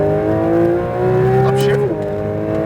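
A loud Porsche 992 GT3 RS engine revs up under strong acceleration on a track, its pitch climbing steadily before dropping sharply as it shifts gear.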